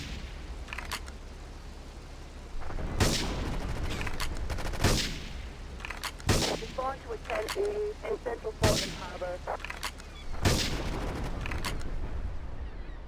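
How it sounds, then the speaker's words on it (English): Gunfire from the video game GTA3 Definitive Edition: a string of sharp, loud shots fired at spaced intervals, some in quick pairs, over a low steady background. "The only reason I'm shooting them is because I know that they're there."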